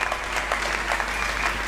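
A church congregation applauds loudly during a sermon, steady dense clapping from many hands filling the space without pause for the short stretch.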